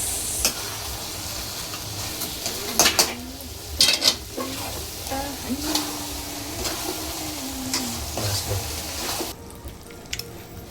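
Buttermilk gravy with spices being stirred in a pot, heard as a close, continuous sizzling hiss with scattered utensil scrapes and knocks against the pot, and a faint voice in the background.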